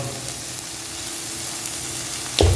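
Chicken fries in oil in a kadai for a restaurant-style dish, giving a steady, close, even sizzle throughout, with a short louder burst of crackling right at the end.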